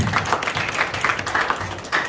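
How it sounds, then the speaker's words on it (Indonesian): Audience applause at an Indonesian national defense anniversary tumpeng-cutting ceremony: steady, dense clapping from a crowd, fairly close and continuous across the whole stretch, with no speech over it. "Kita berikan tepuk tangan yang meriah"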